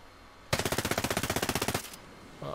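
Suppressed automatic fire from an HK416 rifle in the video game Ghost Recon Breakpoint: a rapid burst of about twenty evenly spaced muffled shots lasting over a second, loud and close, followed by a brief mechanical sound.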